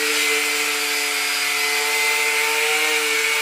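A steady, loud high-pitched whine of an angle grinder cutting through metal car parts during a turbo build on a Honda Civic, running continuously without pause and with no talking.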